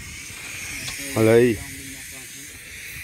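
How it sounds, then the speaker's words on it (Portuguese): Wild boar meat sizzles steadily on a grill with a soft, continuous hiss while someone speaks briefly over it. "Tá chiando"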